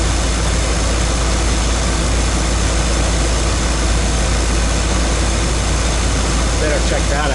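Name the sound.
GMC 350 engine idling through a Cummins exhaust tip and Thrush muffler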